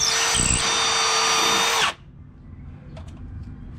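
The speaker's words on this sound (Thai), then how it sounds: "ลองเจาะไม้ก่อนนะครับ" A loud Milwaukee M18 impact drill runs steadily for about two seconds drilling into wood, then cuts off abruptly, leaving faint background noise and a few light clicks.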